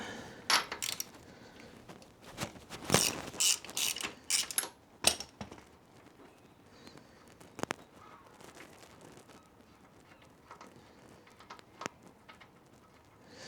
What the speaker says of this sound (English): we'll get this last cylinder plug out, just have a look at the state of it